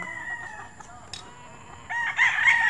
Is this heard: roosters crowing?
yes